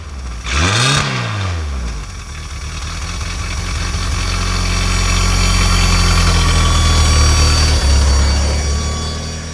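A fuel-injected Ford Pinto engine with Holley Sniper EFI cranks, catches loudly, and settles into a steady, close idle after sitting unused for several days.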